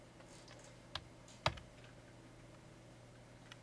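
Students type on computer keyboards in a programming class, with just a couple of faint, distant key clicks over a low room hum.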